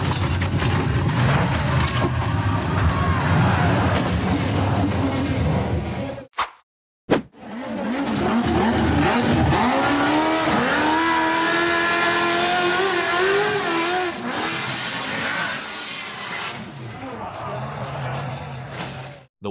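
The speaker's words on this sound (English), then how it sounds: "The buggy with neon green wheels powered through the turn before charging up the steep dirt hill surrounded by dense vegetation." An off-road buggy with neon green wheels roars up a steep dirt hill among dense vegetation, the engine surging and revving hard with a brief cut-out partway, loud and close, with sustained high-revving strain afterward.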